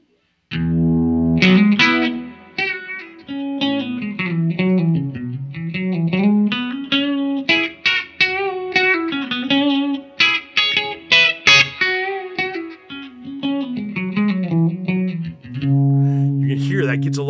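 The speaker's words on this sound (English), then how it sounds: "It's a lot more throbby and has this kind of like really cool, like in phaser terms, they would call it like a through zero effect" A SolidGold FX Aurras Optical Vibraphase pedal in its deep through-zero phase mode colours a guitar line, giving it a throbbing, sweeping, swirling texture. The playing is continuous and fairly loud, with no talking over it.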